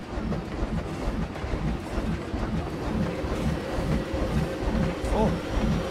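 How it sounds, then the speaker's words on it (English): A train in the Planet Coaster theme park game rumbles along steadily with a low rolling, rhythmic clatter, continuous and fairly loud throughout, with no talk over it. "There's a train."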